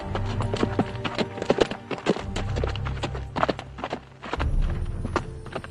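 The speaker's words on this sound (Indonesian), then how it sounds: "untung itu ada orang naik kuda" Horse hooves clip-clopping steadily as a person rides a horse, a rapid run of sharp clear hoofbeats close by with no talk over them.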